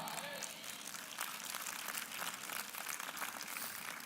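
A church congregation applauding during a sermon, a fairly faint, sustained rattle of many hands clapping with crowd murmur beneath.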